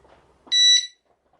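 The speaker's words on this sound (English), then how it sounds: "to turn the bite alarm on, you press and hold the right button with the T on it." An NGT VS fishing bite alarm sounds a single loud, high-pitched electronic tone lasting under half a second as it is switched on, preceded by a faint click.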